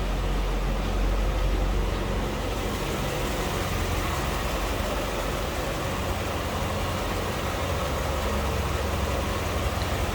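A 1995 Chevrolet Corvette convertible's 350 V8 idles under an open hood, a dense, steady low rumble with a constant broadband roar, close and unbroken throughout.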